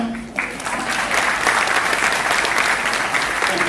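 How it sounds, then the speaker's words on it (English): An audience at a Toastmasters club milestone meeting applauds the MCs, loud sustained clapping that swells after a brief start and continues evenly throughout, with some crowd noise mixed in. "Big round of applause."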